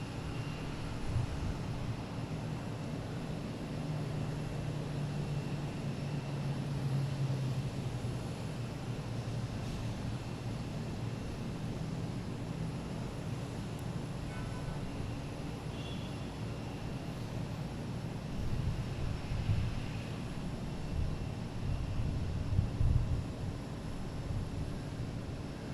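Steady broadband roar of an airplane at Boston Logan International Airport, a continuous rumble holding at moderate level for the whole stretch with a slight swell near the end and no talking over it.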